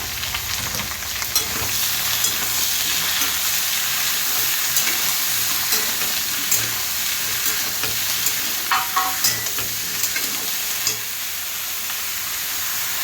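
Diced potato, eggplant and peas sizzle and crackle in hot oil with panch phoron, a continuous close frying hiss broken by occasional scraping stirs of a spatula against the pan.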